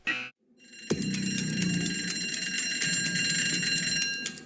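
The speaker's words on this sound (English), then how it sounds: "Alarm goes off." A bright, rapidly ringing alarm bell starts abruptly after a short tone and keeps clanging continuously and loudly.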